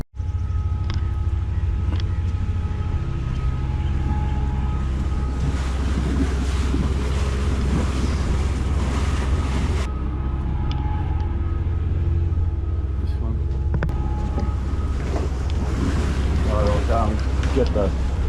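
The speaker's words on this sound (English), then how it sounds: "Wind's blowing us that way." Strong wind buffets a cruising sailboat near a dock on a tropical island trip in Malaysia, roaring steadily into the microphone with water sloshing and faint voices underneath.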